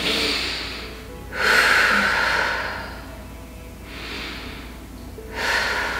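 Slow, audible breaths are taken while holding a seated twist stretch in a beginner routine, with about three soft inhale-exhale swells, close to the microphone and with no talk.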